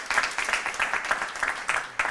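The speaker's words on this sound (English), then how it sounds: "A round of applause for all of them being here tonight" Moderate audience applause at a debate event, a steady patter of many hands clapping for about two seconds in a room, fairly distant and without voices.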